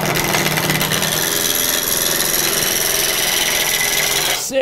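A wood lathe spins a French rolling pin blank while a tool roughs it out, giving a loud, steady scraping hum with a rhythmic chatter close up, then the cut stops abruptly at the end.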